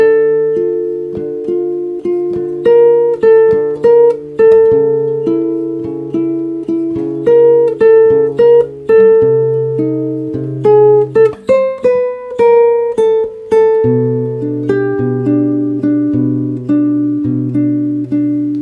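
Solo guitar plays a slow chord melody, plucked treble notes ringing over sustained low bass notes, played clearly and up close with no voices.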